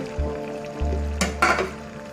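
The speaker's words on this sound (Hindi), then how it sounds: "प्याज हमारा ब्राउन हो चुका है, हम डालते हैं चिकन" Chicken pieces drop into a hot pan of browned onions for a restaurant-style chicken karahi, giving a loud sizzle that flares twice as the meat hits the oil and then fries steadily, with a clatter of stirring.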